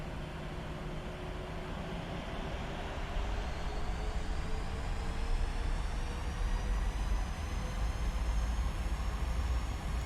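A simulated PMDG 737 airliner in Prepar3D, flown for WestJet from Toronto, spooling up for takeoff: a steady, loud, broadband engine roar with a slowly rising turbine whine, continuous and alone.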